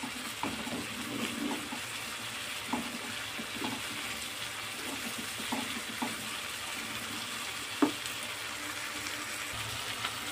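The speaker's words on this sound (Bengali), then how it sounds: "অল্প করে চিংড়ি মাছটা ভেজে নেব" Shrimp frying in a pan for a bitter gourd dish: a steady close sizzle of hissing oil runs throughout, with small pops and stirring clinks scattered over it and one sharper knock near the end.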